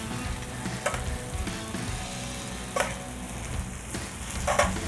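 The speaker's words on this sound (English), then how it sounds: "put the short ribs back, bone side down, and just kind of layer it in there" Short ribs and vegetables sizzle steadily in a hot pan, a constant close frying hiss broken by a few sharp clinks and stirring scrapes.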